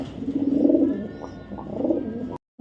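Racer hen pigeons from a racing club loft coo in two low, throaty rolling phrases, close and clear, with a short silence at the end.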